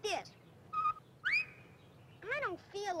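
A person whistles in a cartoon in short, separate bursts: rising and falling glides and one held note, each alone, with quiet pauses between them.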